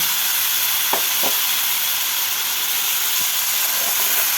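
Malabar spinach seeds frying in a hot pan as they are stirred, a steady loud sizzle with a few short scraping strokes of the spatula, no voices.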